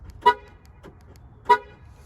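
Two short horn toots from a 2008 Ford Explorer as the car is locked, evenly spaced about a second apart, fairly near and clear over a quiet background.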